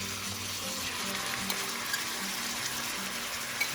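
Ground beef sizzling in a hot pan during beef fried rice prep, a steady low-level frying hiss with faint crackle throughout, no talking.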